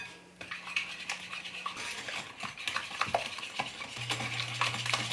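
Ingredients being stirred and mixed in a bowl with melted coconut oil, a steady scraping and clinking of a utensil against the bowl, moderately close, with no talking.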